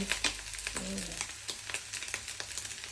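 Corn and egg fried rice frying in a pan, stirred with repeated scraping strokes over a steady sizzle, close and moderately loud, with no talking.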